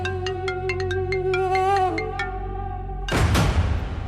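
An incoming-call phone ringtone plays a loud, bright melody of short repeated beeping notes. A sudden burst of noise cuts in near the end.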